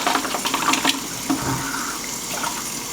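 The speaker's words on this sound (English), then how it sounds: "I'm gonna dump the water out" Wash water from caffenol home film development poured out of a tank into a sink, a steady close splashing stream lasting the whole moment with no talking.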